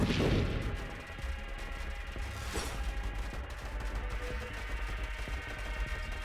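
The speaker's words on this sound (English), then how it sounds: "Rapid-fire machine gun turrets." Rapid-fire machine gun turrets chatter in the space shooter Nova Drift, a dense continuous stream of gunfire with a louder burst at the start and a sharp crack partway through, steady and busy throughout.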